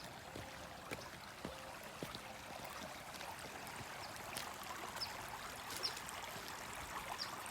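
A river flows as a steady, moderate rush of water with faint trickling and occasional small splashes, continuous throughout and without voices.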